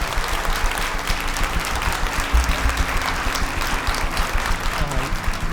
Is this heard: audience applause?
yes